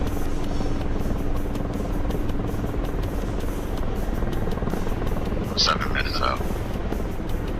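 An Apache helicopter in a video game drones overhead as a steady, dense rotor and engine roar. It stays loud throughout while people talk over it.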